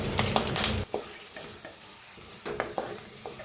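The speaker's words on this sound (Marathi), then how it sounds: "आता तेल तापलेलं आहे, मोहरी टाकू, एक चमच जिरे टाकू, लसूण टाकू, कढीपत्ता टाकू" Mustard seeds, cumin, garlic and curry leaves sizzling in hot oil while being stirred, crackling bursts and spoon scrapes over a steady frying hiss, close and without talk.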